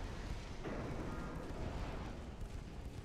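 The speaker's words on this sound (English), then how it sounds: "Deck launch torpedoes, if you please." Deck-launched torpedoes firing from a warship in Ultimate Admiral: Dreadnoughts, a muffled low boom with a rumbling wash of noise and distant thuds, fairly quiet and without voices.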